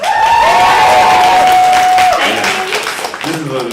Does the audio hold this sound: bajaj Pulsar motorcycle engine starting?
no